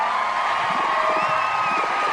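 A crowd cheering and applauding as a sound effect, in a steady, continuous wash of voices and clapping that holds at an even level from start to finish.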